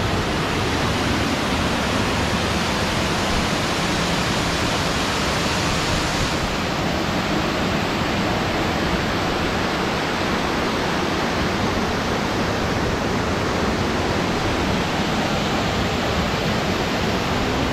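Cachoeira do Salto waterfall in São Pedro de Alcântara roaring as a steady, dense wash of falling water, loud and close, unbroken throughout with no voices.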